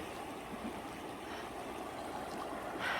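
A creek at Phantom Ranch in the Grand Canyon flows with a steady, close rushing and gurgling of water, continuous and alone without speech.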